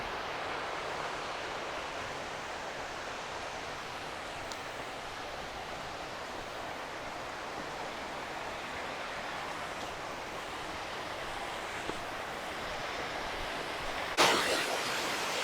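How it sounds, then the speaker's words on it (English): Steady, loud rushing of water churning over rocks, a continuous broadband roar with no voices. "I wanted to give you a feel for the actual power of the surging water"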